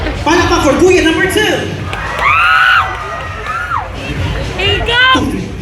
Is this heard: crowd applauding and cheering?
yes